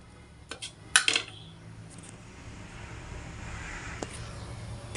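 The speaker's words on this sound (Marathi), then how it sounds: "तर मी इथे ठेवली कढाई" A metal kadai pan gets set down on a home kitchen stove, giving a few quick clanks and a short metallic clatter over faint room hiss, then quiet.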